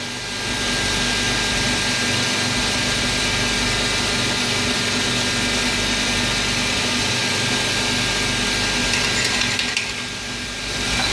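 A core drill cross drills through a workpiece clamped in a tight jig, producing a loud, continuous grinding drone with a steady hum that shifts in tone near the end as the cut changes.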